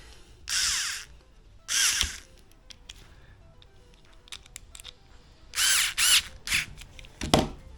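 A Ferrex mini electric screwdriver from Aldi whirs in short bursts as it drives a screw back in, two separate pulses followed by a quick cluster of three or four more, close by and with no talking.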